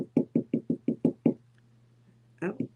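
Seven quick, evenly spaced knocks rap on a door at close range, then a pause over a low steady hum before a voice briefly speaks at the end.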